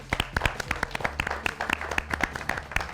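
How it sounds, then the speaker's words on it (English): A small group claps in a quick, uneven burst of applause, close and lively, continuing steadily for a few seconds, at a cricket quiz show. "A big round of applause for them."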